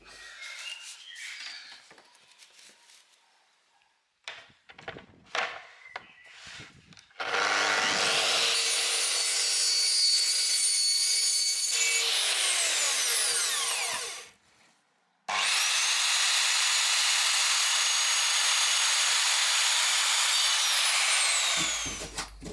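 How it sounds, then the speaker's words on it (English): Timber being power-sawn for a camper van ceiling: two long, loud, continuous cutting passes with steady blade whine, preceded by scattered knocks and handling noises as the wood is set up. "Right, I've cut all my bits of timber."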